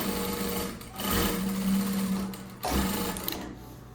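A Sun Spec SS1967X straight stitch sewing machine runs steadily, a close, loud, even mechanical hum and rapid needle rattle with two short pauses where it slows and restarts.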